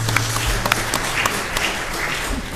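Applause from the audience at a city council meeting, a brief burst of steady clapping at moderate level filling the short stretch without speech.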